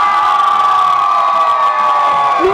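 A crowd at a spring break resort pool contest in Puerto Vallarta cheers and whoops loudly and continuously, a dense, sustained roar of many voices close by.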